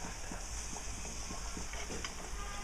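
Pua pitha batter hits hot oil for deep frying, giving a steady, close sizzle and crackle with small pops scattered throughout and no voices.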